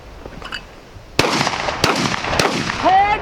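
Sharp gunshot-like blasts from a Remington 1100 12-gauge shotgun, three loud abrupt reports spaced about half a second apart, each with a short ringing tail, with faint background noise before the first shot.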